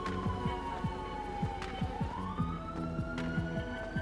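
Police car sirens wail in the FiveM GTA roleplay video game, a rising and falling siren tone carrying over a rhythmic electronic music beat, moderately distant and steady for a few seconds.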